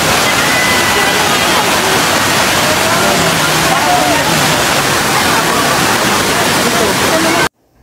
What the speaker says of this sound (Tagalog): reaksyon ng mukha ni Ann Cortez ang saya at namangha ito sa ganda ng Cambugahay Falls ng Siquijor